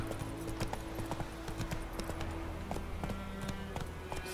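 Horse hooves gallop in The Witcher 3, a steady quick clip-clop rhythm of many hoof strikes under a low humming game soundscape, moderately near and continuous.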